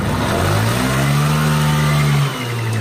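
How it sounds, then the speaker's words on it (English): A motorcycle engine, just after a carburetor cleaning, revs up loudly, its pitch holding high for a couple of seconds before dropping back sharply to a lower idle. "the bike revs up, no problem"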